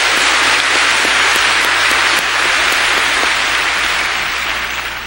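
Loud, steady clapping from a church congregation giving thanks to God during a sermon, a dense wash of hands that holds throughout and eases slightly at the close.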